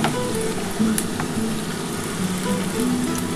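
Pui mechuri greens with potato fry in a hot pan, giving a steady close hiss and crackle of sizzling oil throughout, with faint kitchen clinks.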